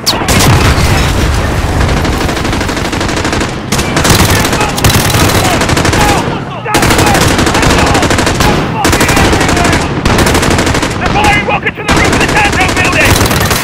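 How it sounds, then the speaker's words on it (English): Heavy automatic gunfire and booming blasts in Call of Duty: Modern Warfare during a Piccadilly Circus firefight, loud and nearly continuous rattling bursts with brief gaps and shouted voices mixed in. "Shots fired in Piccadilly Circus."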